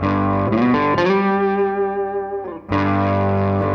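A distorted electric guitar plays a short lick in sustained, gritty notes, breaks off briefly, then strikes again, loud and up close.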